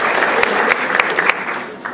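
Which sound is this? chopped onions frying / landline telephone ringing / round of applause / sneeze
round of applause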